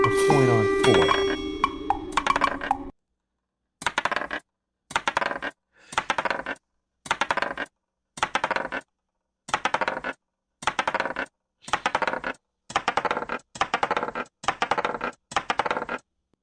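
Coin sound effects from a Scratch economy town game, about a dozen short bright chimes ringing out one after another at a steady pace, led in by a dense busy burst of mixed game sound.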